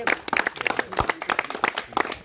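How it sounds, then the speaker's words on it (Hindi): Audience clapping at a street magic show, a short burst of scattered hand claps from a small crowd, fairly close and uneven in rhythm, with faint voices underneath. "ऐसे थोड़े ताली बजा दो एक बार,"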